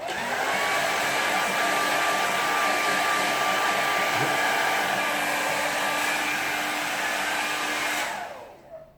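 A hair dryer blows on a watercolour landscape painting, a loud, steady close whoosh with a constant whine that runs unbroken for about eight seconds, then switches off and winds down.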